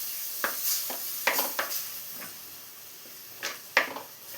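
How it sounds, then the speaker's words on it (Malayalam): A spoon stirs tamarind water into a fish masala for fish perattu in a pan, producing close, irregular scraping strokes and clinks over a soft sizzle. "ഇതെല്ലാം കൂടെ ഒന്ന് മിക്സ് ചെയ്ത് കൊടുക്കാം"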